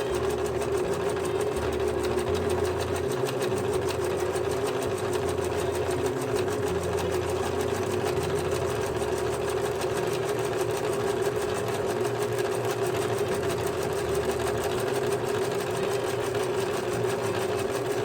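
Sewing machine running with a button foot, a steady, even mechanical whir and rapid needle chatter that continues without pause at a constant moderate level.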